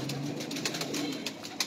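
Pigeons cooing steadily at close range, low throaty calls repeating through the whole stretch amid a busy loft or coop, with other bird sounds mixed in.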